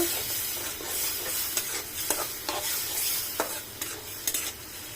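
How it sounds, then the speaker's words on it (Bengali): Prawns stir-fried in a pan over a constant sizzle, with a series of distinct spatula scrapes and clacks at irregular intervals, close up, without any talking. "চিংড়ি মাছগুলো ভালো করে কষাই নিব"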